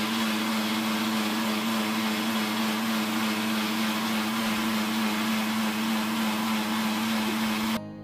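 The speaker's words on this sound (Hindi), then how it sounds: "हल्का सा मिक्स करके इसको मिक्सर ग्राइंडर में डाल रही हूँ, और अच्छी तरीके से इसको आप चर्न कर लीजिए" A mixer grinder runs steadily, churning dosa batter with a loud, constant motor whine and grinding roar throughout, cutting off at the very end; no one speaks.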